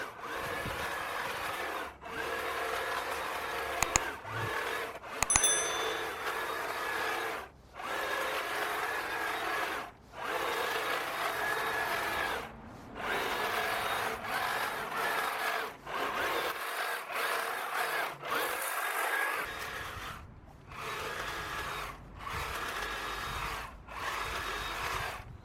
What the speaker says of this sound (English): so we'll continue on down slowly, trimming the hedge